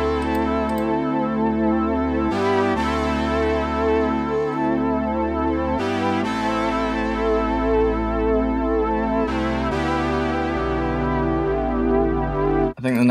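A synthesizer patch shaped with delay and a brightening filter, played in a full musical context, a loud, continuous sustained progression of chords over deep bass notes, changing every couple of seconds with no voice over it.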